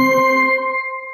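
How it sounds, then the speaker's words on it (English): A single bell sound effect rings out once with a clear, bright strike, then leaves a pure tone that fades slowly as it decays, with nothing else audible. "Pagkatapos kong magsalita ay may maririnig kayong bell."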